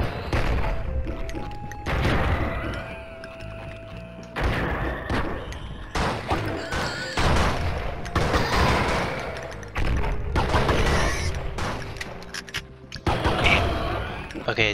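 Pistol and AK rifle gunfire in the video game Blood and Bacon, loud sharp shots and rapid bursts repeating at close range across the clip, broken by short gaps.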